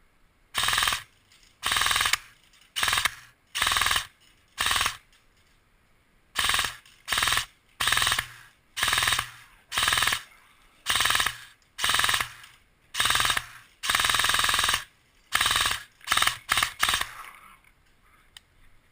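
A custom M4A1 airsoft gun fires full auto in about sixteen loud, close bursts of rapid buzzing shots, each around half a second to a second long and separated by short pauses, with no talk.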